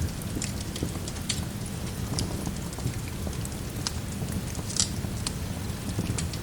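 Rain falls outside a library window as a soft, steady patter with scattered brighter drops, even and unhurried throughout, with no voices.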